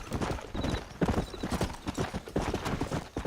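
Horse hooves clip-clopping at a steady trotting rhythm in the Red Dead Redemption game on Xbox One X, close and clear, with a faint whinny near the start and no talk over it.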